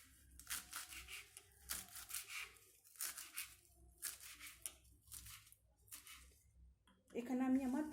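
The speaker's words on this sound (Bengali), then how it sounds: "এখন এই পাতাগুলোকে ছোট ছোট করে কেটে নিতে হবে" Soft, freshly washed leaves being cut into small pieces for a mashed-leaf dish give repeated crisp, crunchy snips and tearing sounds in short bursts, quiet and close, with a voice speaking at the end.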